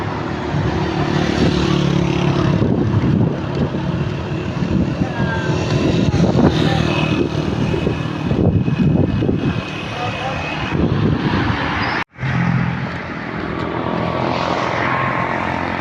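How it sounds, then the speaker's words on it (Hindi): A metro bus passes along a street in Peshawar, a steady, loud broadband traffic roar with engine rumble that swells and holds for most of the stretch, briefly cutting out near the end. "देख रहे हैं सामने मेट्रो गाड़ी जा रही है पेशावर में, वो जा रही है सामने मेट्रो गाड़ी।"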